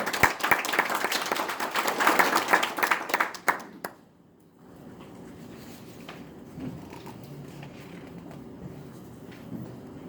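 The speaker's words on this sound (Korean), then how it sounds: "박수로 환영해 주시기 바랍니다." Audience applause welcoming a speaker at a National Assembly forum room, dense clapping for about four seconds that fades out, followed by quiet room tone.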